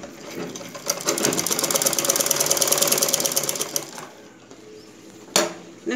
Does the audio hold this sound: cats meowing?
no